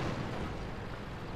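Heavy, continuous low rumble of tank gunfire and artillery impacts in World of Tanks, a dense booming wash with no clear separate hits across a short stretch.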